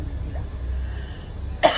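A single short cough near the end, sharp and close, over a low rumble of outdoor background noise.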